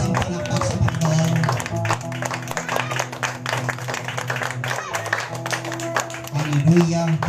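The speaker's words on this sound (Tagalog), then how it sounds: "Wala po bang ilalakas ang palakpak sa Panginoon?" A church congregation applauds for the Lord in sustained, dense clapping that swells louder toward the end, with voices and background music running beneath the applause.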